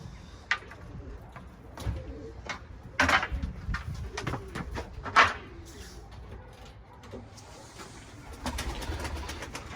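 Pigeons coo near their loft on a windy day, soft repeated calls scattered through the clip with a few sharper knocks and wing sounds, fairly close, over steady wind noise.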